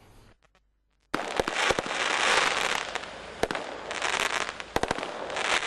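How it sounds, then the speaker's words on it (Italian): Firecrackers set off by environmental protesters at a roadway opening ceremony, a loud sustained burst of rapid crackling and sharp bangs after a moment of quiet, with louder isolated pops standing out near the end. "I botti invece erano un gentile omaggio degli ambientalisti"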